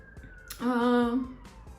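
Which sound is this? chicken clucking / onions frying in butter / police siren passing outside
police siren passing outside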